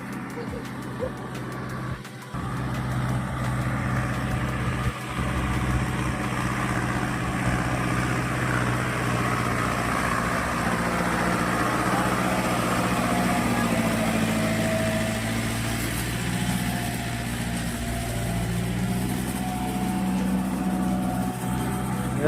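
A tractor engine runs steadily at idle nearby, a continuous low rumble that starts after a brief quieter stretch and holds throughout the clip; no talking.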